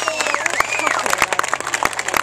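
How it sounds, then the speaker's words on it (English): Crowd clapping and cheering behind runners at the start of a 10k charity race, a burst of scattered applause and whoops close by with voices mixed in. "Big cheer behind them, guys."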